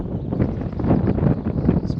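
Strong wind buffets a microphone beside a fishing lake, a steady low, rough rumble with gusty swells that persists throughout.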